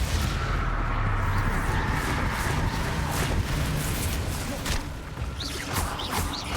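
Blasting-spell explosions in a video game, a dense run of booming bursts and crackling impacts packed closely across the whole stretch, loud and near, with brief whooshing swoops near the end.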